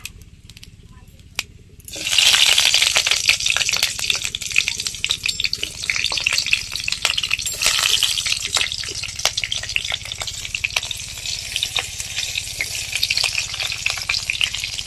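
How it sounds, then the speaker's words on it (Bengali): Green chillies and whole cumin hit hot mustard oil after a quiet moment, breaking into a loud, steady sizzle with dense crackling and spitting that goes on without a break. "কাঁচা লঙ্কা আর গোটা জিরেটা একটু ভেজে নিলাম"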